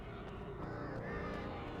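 Crows caw in the Alan Wake Remastered video game, several harsh calls repeating over a steady, dense background of in-game ambience with no speech.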